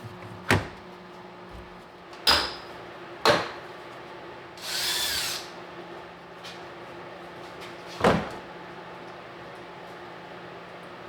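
Handling of the rotten driver's door on an old work truck: a few sharp metallic knocks and clunks spaced seconds apart, with a brief scraping rush in the middle, close and fairly loud over a quiet background.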